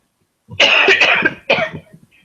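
A person coughs twice in quick succession, a harsh, close, loud burst followed by a shorter second cough, then a faint trailing breath.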